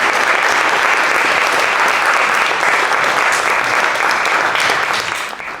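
A conference audience claps loudly and steadily for several seconds, a dense, even wash of applause that fades slightly at the end.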